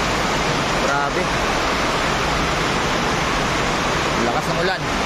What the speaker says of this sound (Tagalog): Narinig niyo ba yung ulan? Lakas, no?